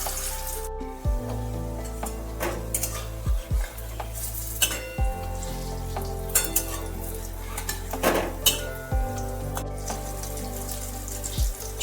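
Small palta (pointed gourd) leaf fritters fry in hot oil over a low gas flame, giving a constant sizzle broken by occasional sharp clinks of a utensil stirring against the pan.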